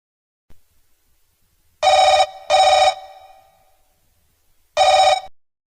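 Telephone ringing indoors before a call is picked up: two quick electronic ring bursts back to back, a pause, then a third burst, loud and clear against a quiet room with no voices.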